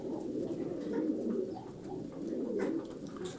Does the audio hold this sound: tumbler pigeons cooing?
yes